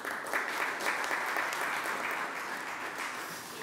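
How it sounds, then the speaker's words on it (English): Sustained applause from a seminar audience at Karimjee Hall, a steady dense clatter of many hands clapping at moderate volume throughout, with no talk over it. "Please can you join me in giving one more round of applause to all of our speakers this morning."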